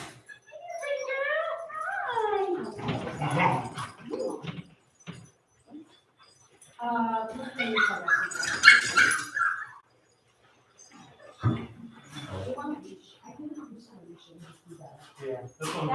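Puppies at a socialization class give high, wavering whimpers and yips in several bursts, close by, mixed with people talking and some handling noise between the calls.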